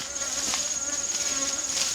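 Bees buzz at an apiary in Sare Koli, Senegal, a dense, steady drone of many insects, continuous and fairly loud throughout with no talk.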